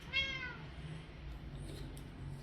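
A cat, in a home workshop during a barrel boat build, lets out a single short meow close by near the start, followed by quiet room noise with faint rustles.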